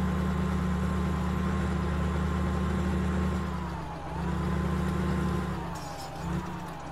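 Steady low tractor engine idle heard from inside the closed cab during oat planting in northwest Ohio, a constant rumble with a faint higher whine, slight dips near the end.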